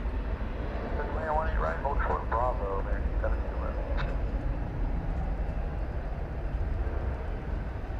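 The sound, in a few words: Airbus A319 airliner landing at DFW Airport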